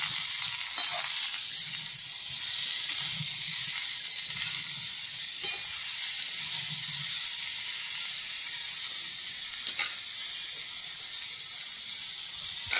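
Ridge gourd tossed with salt in a hot pan, a steady close sizzle and frying hiss running throughout with faint stirring scrapes and no talking.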